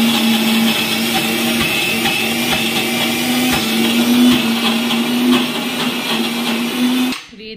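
A mixer grinder whirs loudly and steadily, grinding soaked moong dal with chopped onion and ginger, a continuous motor hum with rattling blades that cuts off abruptly at the end.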